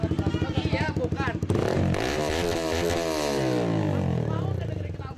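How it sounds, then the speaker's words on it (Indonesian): A motorcycle exhaust (knalpot) revs close by, its engine note climbing and falling in a sustained roar while people talk over it. "Kamu mau nggak dengerin knalpot ini?"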